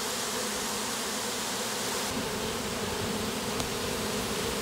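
Bees swarm around a bee tree in late May, making a steady, continuous buzzing drone that fills the whole stretch at moderate loudness with no voices.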